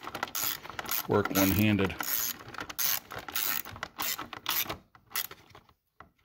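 Ratchet wrench working the bottom bolt on a 1983 Porsche 944 through a universal joint, rapid close clicking strokes in bursts with metallic rubbing, while someone speaks briefly.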